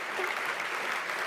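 Steady audience applause fills a sailing awards stage as the America's Cup trophy, the old mug, is carried on, dense continuous clapping at moderate loudness with no voices.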